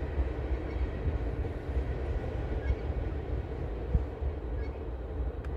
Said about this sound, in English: Believe it is the crude train.